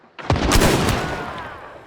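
A single sharp gunshot from a first-person shooter match, loud and close, its crack trailing off into a fading echo with no other sounds.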